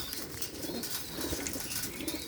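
Pigeons coo softly and steadily in a loft, with faint wing flutters mixed in and no voices over them.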